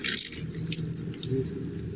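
Water from a garden hose turned down to a slow flow trickles and drips steadily onto soil in a backyard vegetable garden, a soft continuous wet patter over two seconds.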